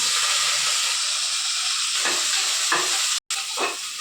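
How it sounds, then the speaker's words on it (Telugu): Finely chopped onions fry in two spoons of hot oil in a cooker, with a steady loud sizzle and a few stirring scrapes. "సన్నగా తరిగి పెట్టుకున్న ఎర్రగడ్డలు వేస్తున్నానండి"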